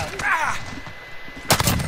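Shotgun fire in the Call of Duty Modern Warfare video game during a Team Death Match on Hackney Yard, with a sharp blast near the end over a busy background of game noise and faint talk.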